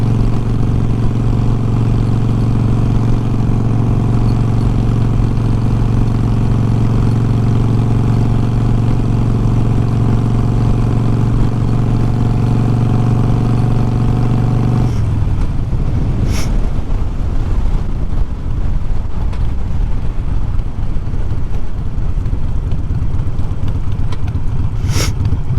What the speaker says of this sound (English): It feels so good to take the motorcycle out